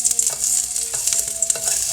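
Steady hissing sizzle of garlic frying in a hot pan, loud and close, with a few light scraping stirs, no voices.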